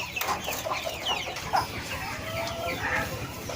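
Chickens raised for meat on a farm cluck and chatter continuously nearby, several birds overlapping in a busy, moderately loud flock murmur with occasional sharper calls.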